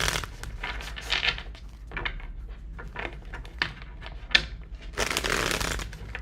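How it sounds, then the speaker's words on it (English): Tarot cards are shuffled in a tarot reading, bursts of crisp riffling and flicking come in several quick rounds, close and fairly loud, with a longer continuous riffle near the end. "Two more shuffles for Pisces."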